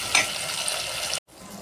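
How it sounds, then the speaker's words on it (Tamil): Onions and tomatoes sautéing in a pan for mutton kulambu give a steady close sizzle and hiss that cuts off abruptly, then returns faintly. "வெங்காயம் வதங்கிட்டா தக்காளி, இது நல்லா வதங்கட்டுங்க."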